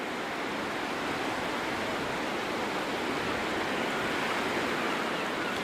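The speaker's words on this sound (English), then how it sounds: "And the murmuring of waves as heard from a seaside vacation rental." Gentle sea waves murmuring as heard from a seaside vacation rental, a soft, even wash of surf that stays steady and unbroken throughout, with no voices.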